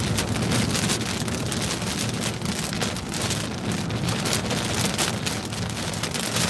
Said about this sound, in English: See the wind brushing the rain right across the windshield.